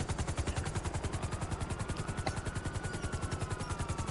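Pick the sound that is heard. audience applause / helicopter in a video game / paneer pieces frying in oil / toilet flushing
helicopter in a video game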